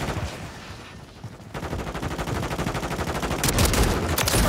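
Sustained gunfire in the video game Call of Duty Modern Warfare 3, rapid automatic shots rattling continuously after a brief lull and growing louder toward the end.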